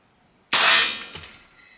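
A pellet from an FX Impact air rifle strikes a metal target with one sharp, bright clang that rings loudly and then fades over about a second.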